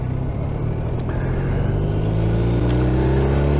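A BMW R 1250 RT motorcycle accelerates, its engine giving a loud, steady low drone whose pitch rises gradually as it gains speed, alone and close.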